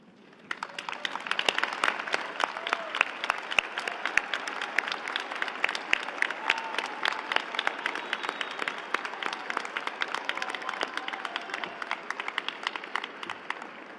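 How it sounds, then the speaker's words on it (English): A standing audience at Ohio University's fall commencement claps in sustained applause, a crisp, fairly distant wash of many hands that rises quickly and carries on evenly to the end. "please rise and join me in giving a big round of applause to everyone who helped you reach this important moment"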